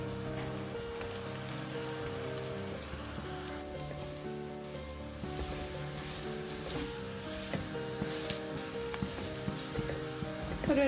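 Grated coconut sautés in oil for a banana flower and green gram stir fry, making a constant rain-like sizzle with occasional stirring scrapes and a faint hum beneath.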